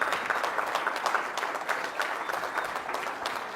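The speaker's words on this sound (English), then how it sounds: "can we all give a huge round of applause to Doug, John, Luke," A room of business leaders at an Amway event in India gives sustained applause, dense overlapping clapping at moderate volume that holds steady throughout.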